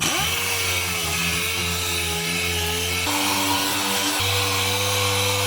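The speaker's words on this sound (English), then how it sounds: "See if I can get in this boot area completely sanded back with 1 sheet." Ceramic sandpaper is worked across the boot floor of a Leyland P76 car, giving a loud, continuous whirring power-tool drone whose pitch steps down twice, with no voices.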